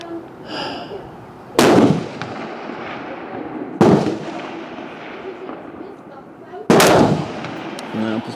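Three loud, sharp rifle reports from a Fightlite SCR fired from the elbows on a 300 m range, each cracking hard and trailing off, spaced a few seconds apart with faint background noise between.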